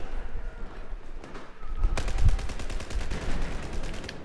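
Gunfire in the video game Battlefield 4: a dense burst of rapid automatic shots starting about halfway through, loud and close, with earlier scattered shots.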